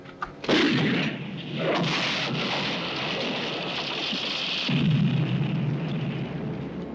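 Gunfire and cannon shots in a 1951 Civil War western film: a few loud blasts in close succession, each followed by a long roaring rumble and echo that keeps the battle noise going throughout.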